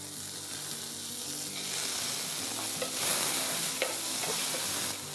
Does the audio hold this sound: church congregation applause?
no